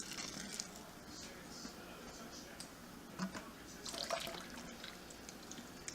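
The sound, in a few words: sparge water draining through mash while brewing cream ale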